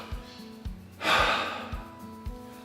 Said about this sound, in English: when we're breathing with the ancillary muscles around our chest, shoulders and upper back, the contraction of those muscles actually occurs on the in-breath